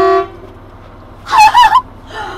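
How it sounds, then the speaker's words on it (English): Semi truck air horn honking in a few loud, close blasts with a brief pause between, following a quieter tone at the start. "do you think we should honk the horn now?"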